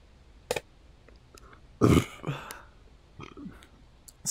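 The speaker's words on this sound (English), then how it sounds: "I burped a little bit." A single loud, guttural burp from a man during a night-time ghost hunt, rising out of quiet background shuffles and small clicks.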